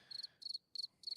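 Crickets chirp in four quick, evenly spaced bursts, each a rapid pulsing trill, close and clear against a quiet background.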